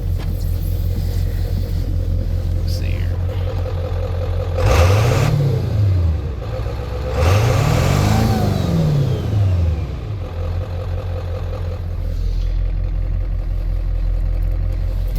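A 1997 Ford F-250 HD 7.3 diesel 4x4 truck idles with a loud, lopey rumble close by, and the engine is revved twice, each rev rising and falling, with a few brief spoken words.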